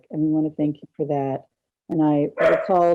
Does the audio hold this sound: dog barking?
yes